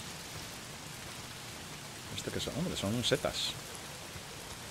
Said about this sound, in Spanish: Si no son los engendros, es la puta lluvia